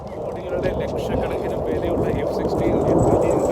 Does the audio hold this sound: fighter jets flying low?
yes